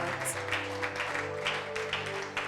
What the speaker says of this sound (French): Est-ce que nous pouvons donner des acclamations à Jésus-Christ de Nazareth?